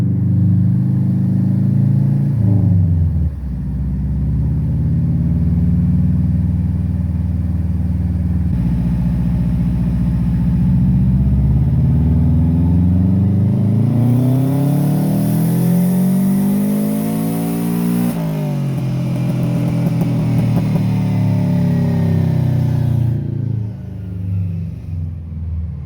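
A turbocharged Subaru Legacy engine roars on a dynamometer, climbing steadily in one long loud pull toward 7,000 RPM, then dropping back to a lower drone before fading.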